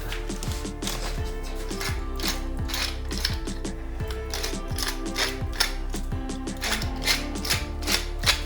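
A hand pepper grinder turned steadily over a dish for musaka, giving a continuous close ratcheting, clicking mechanical grind with a regular rhythm throughout.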